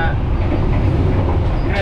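A passenger train near Cirebon, Indonesia, heard from on board: a loud, steady rolling rumble with dense low-frequency noise throughout and a brief hiss near the end.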